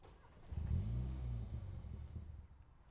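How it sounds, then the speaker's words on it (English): A 2021 MINI Convertible John Cooper Works facelift engine starts up with a low, rumbling surge that swells near the start and then settles into a steady idle, heard close up and without any talking. "let me start the engine"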